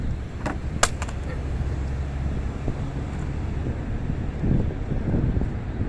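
Steady wind buffeting outdoors, a constant low rumble of gusts across the microphone with a few brief sharp knocks near the start.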